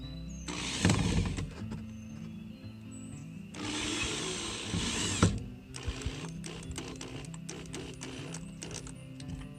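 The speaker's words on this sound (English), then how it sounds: "now we use the extended driver to actually drive the screw down" A power drill whirs in short bursts, driving a screw into wood with an extended driver, winding up and stopping several times, with clicks and handling noises between the runs.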